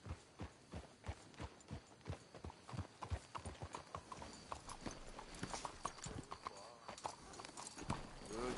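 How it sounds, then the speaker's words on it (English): Hooves clip-clop in a steady trotting rhythm in Red Dead Redemption 2, fairly close, with voices speaking over the hoofbeats. "Let's hitch the horses up ahead."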